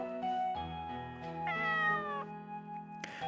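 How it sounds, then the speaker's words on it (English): A cat from the video game Corpse Party: Book of Shadows gives a series of clear, close meows, several drawn-out tonal calls in a row with no talk over them. "it let out an adorable meow."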